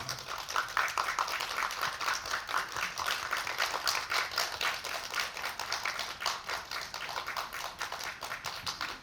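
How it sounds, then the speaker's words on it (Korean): An audience at a film event applauds as the director and actors of a wheelchair basketball film walk onto the stage, with steady, fairly quiet, sustained clapping that continues throughout. "무대로 모시겠습니다. 박수로 맞이해 주시기 바랍니다."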